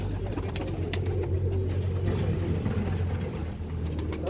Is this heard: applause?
no